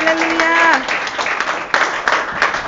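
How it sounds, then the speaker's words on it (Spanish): A church congregation claps together in a brief burst of applause, with a voice calling out over the clapping at the start. "Denle fuerte el aplauso a Cristo."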